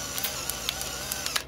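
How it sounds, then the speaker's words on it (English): Electric pepper grinder grinding fresh pepper into a pea salad: a continuous buzzing motor whir with gritty crackling, close and steady throughout, punctuated by small clicks and crunches. "So now I'm fresh grinding pepper in here with the electric grinder."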